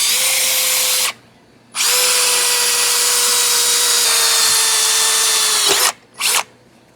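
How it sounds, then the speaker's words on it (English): Power drill boring a hole for a distributor hold-down on an LS 5.3 front-mount HEI distributor build, loud and close, running in two long steady bursts with a brief pause between and a short final blip. "let's drill and tap a hole"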